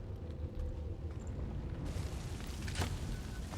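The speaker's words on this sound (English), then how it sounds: "Throwing grenade." A grenade explosion in the video game XCOM 2, heard as a sustained rumbling blast with a crackling burst, set against continuous low battle noise and burning ambience.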